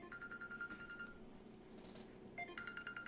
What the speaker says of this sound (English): I got to turn off my ringtone.